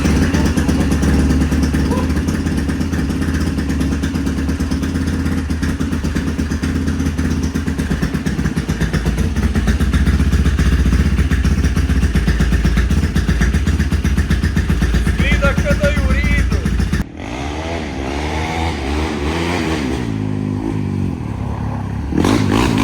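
A Yamaha YFZ450 quad, just rescued from nearly seizing its engine, runs with a loud, steady, close engine drone. Its tone shifts toward the end into uneven revving and rattling.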